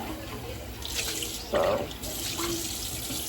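Tap water runs steadily from a faucet into a cup being filled for a drink, a close, continuous splashing hiss that swells briefly near the middle; a voice says a single short word.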